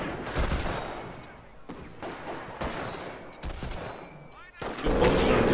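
Rapid gunfire and explosions crack through a Company of Heroes World War II battle between airborne troops and German Volksgrenadiers, repeated sharp bursts at close range with some distant booms.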